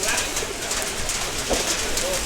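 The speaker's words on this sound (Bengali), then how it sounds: "কবুতরগুলো সব র ব্লাডের বেজি লাইনের কবুতর" Pure-blood pigeons of a fancy silver line coo softly amid steady background noise, the calls faint and partly masked by the general din of a bird market setting.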